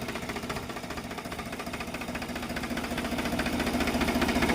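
A Powertrac EURO 50 tractor engine runs close by with a steady, rhythmic diesel thrum and chugging pulses, growing slightly louder toward the end.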